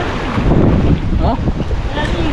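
Strong wind from Typhoon Carina roars and buffets against the microphone, a loud, continuous rush with faint voices mixed in.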